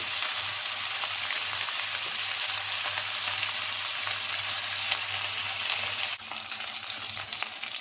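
Spiced chicken pieces fry in a pan for an Arabian kabsa, with a dense, continuous sizzle heard up close and a low steady hum beneath, easing slightly near the end.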